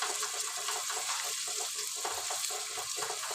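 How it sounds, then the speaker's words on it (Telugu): Onions sizzle in hot oil while chicken biryani is being made, a steady, dense, close hiss that holds unbroken throughout with no voices. "ఆనియన్స్ ఫ్రై అవుతున్నాయి కదా"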